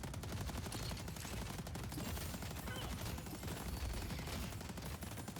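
McGinnis's spirit turret in Deadlock fires continuously in dense, rapid automatic bursts, faint and held at a steady level throughout.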